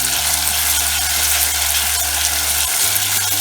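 Ginger garlic paste and green chillies frying in a pan, sizzling steadily and loudly with a low hum beneath while being stirred, no voices.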